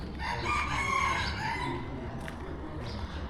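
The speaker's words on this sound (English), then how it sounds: "And a rooster somewhere." A rooster crows from a distance outdoors, one drawn-out call over steady background street noise.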